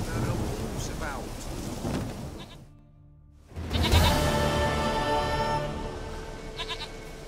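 A goat bleats in The Witcher 3: Wild Hunt, a harmonic cry heard near the start and again after a short gap, loud over a rumbling, rainy background.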